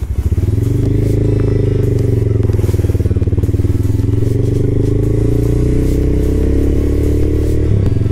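A modified Taro GP One V3 motorcycle rides with a loud, steady engine drone throughout, a low throbbing exhaust note holding near-constant revs with slight rises and dips, close to the listener.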